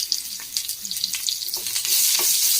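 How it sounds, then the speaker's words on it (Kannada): Garlic and onion frying in a pan, a close, dense sizzle with crackling pops and stirring scrapes that swells louder toward the end, no voices. "ಈಗ ನೋಡಿ ಇಷ್ಟು ಫ್ರೈ ಆಗಿರುತ್ತೆ ಸಾಕು."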